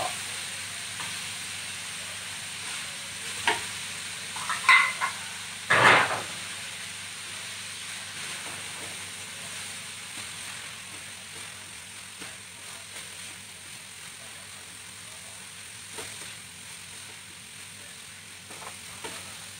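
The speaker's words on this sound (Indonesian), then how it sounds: "kita masukkan semua bahan untuk ditumis. Dan bakso." Fu yung hai ingredients and meatballs sizzle steadily in a pan as they are stir-fried, with a few louder clattering stirs and scrapes early on, then a constant frying hiss with no talking.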